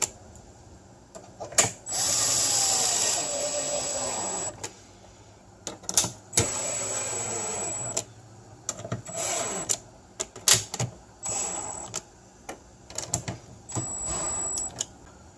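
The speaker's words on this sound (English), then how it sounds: "then I'm simply gonna put them in with my screwdriver evenly" A power screwdriver drives screws into a light bar mount on a Ford pickup, several whirring bursts of varying length separated by short pauses, close and fairly loud.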